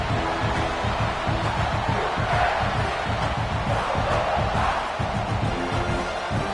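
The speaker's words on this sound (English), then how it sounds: "this crowd coming to life here trying to help the defense get a stop" Football stadium crowd roaring steadily during a defensive stand, a dense, loud wash of cheering and yelling that swells slightly midway and holds throughout without any clear voice standing out.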